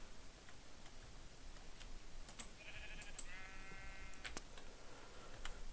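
Sheep in a Minecraft mod pack give a few short, faint bleats in quick succession, with light ticking clicks scattered over a soft, steady background.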